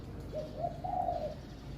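Decoy spotted dove from Isan in northeast Thailand, a kept bird giving one soft rolling coo that rises and then fades, faint against a quiet background hum.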